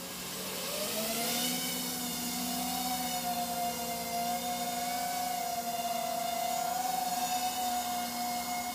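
A quadcopter drone with a magnetometer-equipped flight controller flies overhead, its motors giving a continuous loud buzzing whine that shifts slightly in pitch throughout, with no voices.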